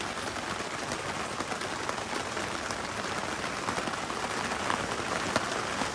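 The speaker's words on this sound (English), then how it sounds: "You can probably hear how loud it's raining" Heavy rain drums steadily on the roof of a small Casita camping trailer in the Pacific Northwest, a loud, dense, unbroken hiss with no talk over it.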